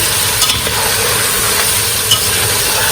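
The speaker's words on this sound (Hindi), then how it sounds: "और अब हम मटन और आलू दोनों को फ्राई करेंगे।" Mutton and potato pieces fry in a pot for aloo gosht, giving a loud, steady sizzle with light stirring scrapes and occasional clinks throughout, with no voices.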